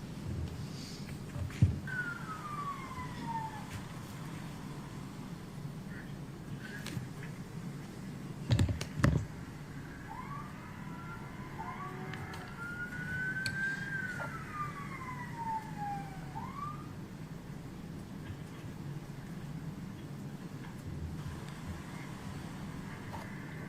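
Police car sirens wailing in rising and falling sweeps at a moderate distance as cars respond fast to a shooting, over low rumbling street noise, a few sharp knocks and clatter, with no speech.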